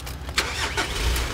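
A pickup truck engine cranks and catches, a short burst of starter whirr followed by the engine firing into a rough rumble, close and fairly loud.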